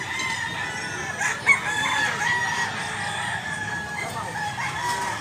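A bullstag gamecock crows in a long, drawn-out call that carries over steady background noise, with a short sharp knock partway through.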